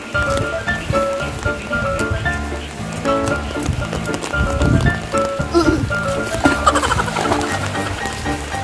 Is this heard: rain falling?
yes